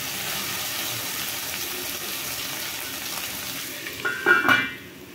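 Vegetables for dal khichdi sizzle steadily in a pan over a medium flame, a constant frying hiss with a brief burst of stirring near the end.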